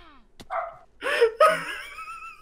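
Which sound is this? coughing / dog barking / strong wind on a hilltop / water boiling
dog barking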